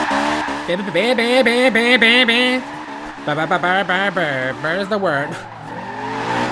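A Honda Civic Type R in the racing game Forza Horizon 2 slides with loud, sustained wavering tire squeals that rise and fall over several seconds while someone talks over it.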